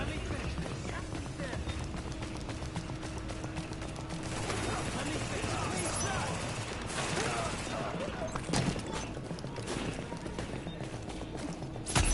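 Gunfire aimed at the player in a PS4 video game: dense, continuous crackling shots and clattering action that run throughout under speech, with a few sharper impacts toward the end.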